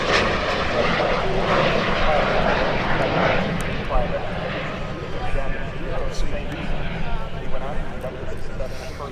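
A de Havilland Vampire jet fighter makes a pass at the EAA AirVenture Oshkosh airshow, its loud, steady jet-engine roar filling the air while an announcer talks over it.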